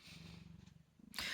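Soft, close cat purring with a steady rumbling rhythm, broken at the end by a sudden brief rustle.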